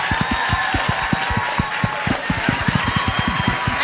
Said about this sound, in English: y'all please clap for my husband because he's an amazing man